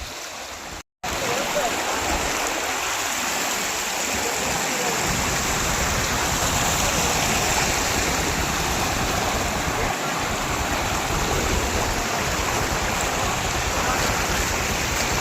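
Steady, loud hiss of water spraying continuously from a hose onto a vehicle being washed, after a brief silent gap at the start.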